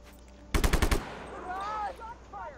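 Gunfire in the video game Just Cause: a single loud burst of about five rapid shots, then a quieter stretch with a voice-like wavering sound over low background noise.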